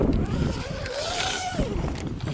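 Steady wind roars and buffets the microphone at a forested mountain campsite, a broad rushing noise with a faint whistling tone rising and falling in the middle.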